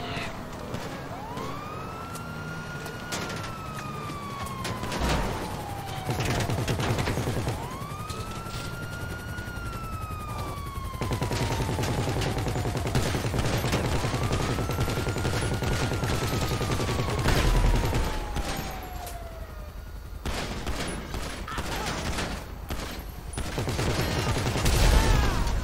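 Bursts of gunfire crackle in GTA V Online during a hostile takeover at Los Santos International Airport, mixed under loud, repeatedly rising and falling police sirens and a steady mechanical rumble.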